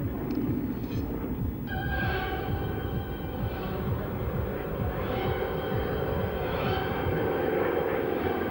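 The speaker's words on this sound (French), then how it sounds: "le T-28 il est là-bas, tout au fond, et il va se poser gentiment, comme tous ses camarades" A T-28 propeller aircraft at an air show drones steadily with a loud, continuous engine roar that holds throughout.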